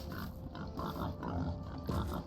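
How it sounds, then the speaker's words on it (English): A truffle pig grunts in a video game set in a dark fantasy city, giving a few close, rough snorts over a steady background of game ambience. "Truffle swine."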